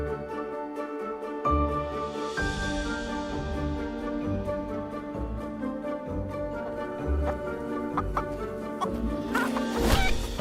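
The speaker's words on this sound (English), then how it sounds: "we have sound effects for kicking a chicken at least" Chickens cluck in the video game Fable, repeated close clucks and squawks over a bed of game music, with a sharper burst of flapping or squawking near the end.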